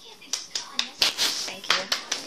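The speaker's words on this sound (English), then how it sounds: "Girl, can you do a round of applause?" A girl claps a quick round of applause, about ten sharp, close hand claps in an uneven rhythm with faint talk underneath.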